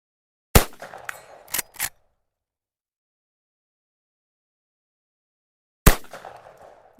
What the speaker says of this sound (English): It's been a while since I've shot at this distance too